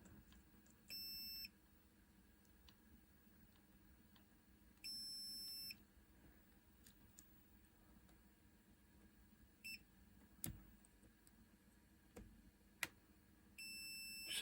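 Short electronic beep bursts from a Nintendo 2DS XL handheld under repair, sounding three times at intervals over a low hum, with a few faint clicks between them and no talk.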